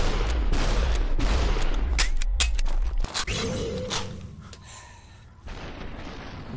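Sharp gunshots crack through a Superhot game fight in several quick bursts, followed by mechanical clanks and a quieter stretch of rumbling, all close and loud with no speech over them.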